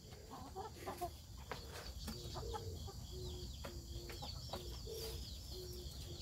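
A black rooster clucks softly, a quiet run of short repeated calls over steady background noise.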